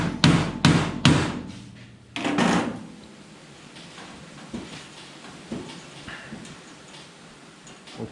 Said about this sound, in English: putting the screwdriver in and then hammering it and giving it a shock